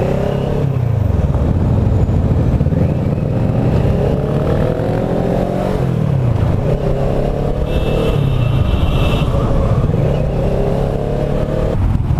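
Several motorcycles pull away together from a green light, engines revving and rising in pitch through the gears as they accelerate, loud and close throughout with a steady engine roar and no talk.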